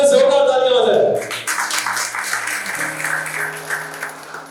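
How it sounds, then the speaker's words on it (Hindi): Audience at an anniversary celebration and parent training session breaks into loud applause, a dense clapping wash that swells and then carries on steadily at a slightly lower level, with a voice speaking briefly over it. "जोरदार तालियां हो जाए।"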